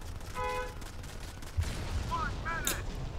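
In the Modern Combat 5: Blackout video game, gunfire crackles in bursts mixed with game effects and a heavier thump, a busy, moderately loud battle texture without anyone talking.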